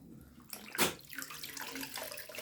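Water from a tap splashes into a sink at home in a short, steady run, with a brief louder gush near the start, close by and alone with no talk.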